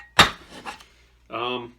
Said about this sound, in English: And obviously the next thing is the chopping portion of it. How well does it chop?